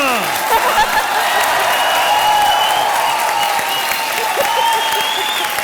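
Steady, dense applause from a studio audience on a TV game show, with light laughter and a voice calling out now and then above the clapping.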